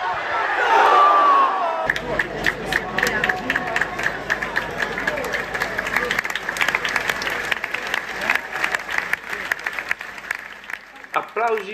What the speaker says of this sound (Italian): Applausi per Chiesa che lascia il campo e viene sostituito.